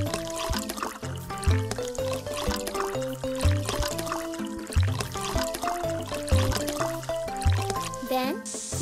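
Body wash is poured onto a puppy in the Little Pet Vet pet care game, with cartoon liquid pouring and trickling effects layered over bouncy background music.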